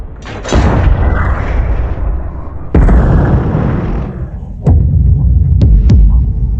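A divine metal weapon fires powerful blasts: a loud booming explosion followed by a long rolling rumble, a second big blast with more roar, then several sharper thumping pops close by.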